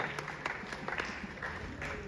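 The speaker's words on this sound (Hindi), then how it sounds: "बिंदु जी के लिए एक बार जोरदार तालियां हो जाए" Faint, distant applause from an audience at a stage performance, light and uneven clapping with a few distinct claps standing out over a low background.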